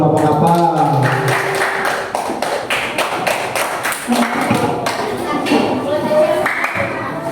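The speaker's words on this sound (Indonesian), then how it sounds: "Kasih tepuk tangan dulu buat kelompok apel." Students in a classroom clap for a student group, a burst of fairly loud, uneven hand claps and taps with some talk mixed in.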